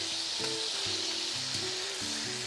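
Chicken frying in oil in a casserole, a loud, continuous close sizzle with low bubbling pops running throughout.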